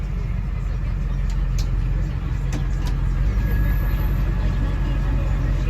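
A 2001 Ford E450 cutaway flatbed with a 7.3 Power Stroke diesel engine rumbles steadily and loudly up close, holding a dense low drone throughout as it is revved.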